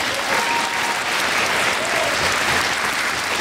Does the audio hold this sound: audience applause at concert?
yes